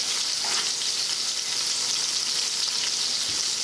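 Schnitzel frying in a pan gives a steady, loud, continuous sizzle that runs the whole time without pause, close up and with no voices over it.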